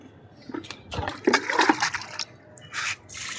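Water poured into a sack of cow manure while making liquid plant fertilizer, heard as irregular splashing and trickling bursts, moderately loud and close, with quieter gaps between pours.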